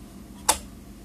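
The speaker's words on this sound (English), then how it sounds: "push it back until the clips go ahead and make a clicking" One sharp plastic click as a RAM module's clips snap into its slot in an HP TouchSmart 320 PC, short and close, against a quiet background.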